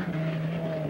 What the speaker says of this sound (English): here comes our second place boat